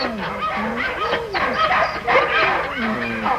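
A female collie barks repeatedly, mixing yips and whimpering whines in an uneven rhythm. The sound is close and carries on without a break, with no talk over it.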